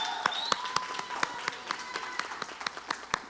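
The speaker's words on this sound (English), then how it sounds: "Give them a round of applause." Graduates at a Summer Academy commencement ceremony get a round of sparse, steady clapping from a modest audience, with sharp individual claps landing in a quick regular rhythm at a moderate distance.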